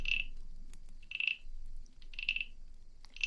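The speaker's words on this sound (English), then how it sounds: "I just asked my little frog friend to croak a bit for me" Frog croaks in a quiet setting, three short trilling calls spaced about a second apart, close and clear.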